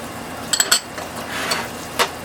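Honey and soy sauce stirred together in a bowl: a quick cluster of clinks from a utensil against the bowl, then softer scraping swishes and one more clink, close and without talk.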